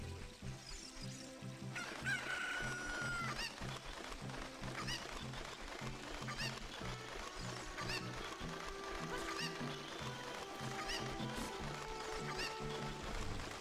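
Chicken clucking in the N64 game Zelda: Ocarina of Time, with repeated short clucks woven through steady looping game music that plays throughout.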